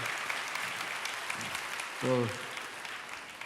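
Audience applause rises as a steady wash of clapping at a church gathering, with a voice speaking briefly over it.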